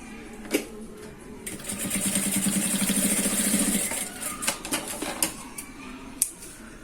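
A sewing machine stitches a fabric backpack strap, running in one steady buzzing burst of about two and a half seconds, with a few sharp clicks and taps before and after; no voices.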